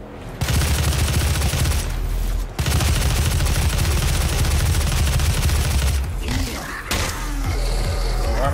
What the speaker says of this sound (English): I'll use the assault rifle.